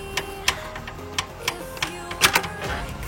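Screws being tightened on a graphics card support bracket inside a PC case, a run of small, irregular ticks and clicks from a screwdriver, close and fairly quiet, with no talk.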